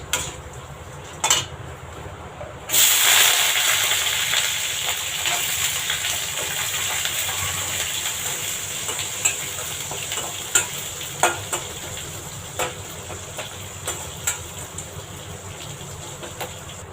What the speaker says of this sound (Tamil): கடலைப்பருப்பு சேர்ந்ததுக்கப்புறம் நம்ம கட் பண்ணி வச்ச வெங்காயமும் கருவேப்பிலையும் போட்டுடலாம்